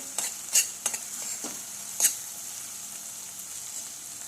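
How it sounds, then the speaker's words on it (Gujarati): Chopped onions sautéing in a pan, with a few sharp clinks of a spoon stirring near the start, then a soft, steady sizzle continuing on its own. "તો ડુંગળી સરસ શેકાઈ જવા આવી છે।"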